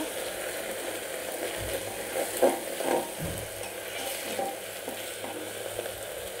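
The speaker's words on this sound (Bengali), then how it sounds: "এখানে আছে আদা, রসুন আর কাঁচা জিরে বাটা, দিয়ে আবারও ভালোভাবে নাড়াচাড়া করে নেব" Ginger, garlic and raw cumin paste sizzles steadily in hot oil in a pan, with scraping stirs and a few louder clattering bursts of the spoon partway through; no one speaks.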